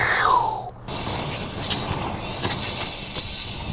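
Rear brakes on a Toyota 4Runner grab with a short falling squeal, then give way to a rough, low rumble broken by intermittent scraping clicks, heard close up.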